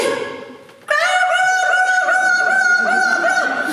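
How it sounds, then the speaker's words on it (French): A loud, shrill bird cry rings out after a brief quieter call, sustained and wavering like several gulls calling together nearby. "C'est des mouettes."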